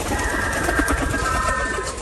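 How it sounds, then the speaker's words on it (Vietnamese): Pigeons raised at a home garden coo softly and repeatedly over a steady background hiss, moderately close, with no talking. "Thầy nuôi rất nhiều chim với bồ câu nhưng không thịt."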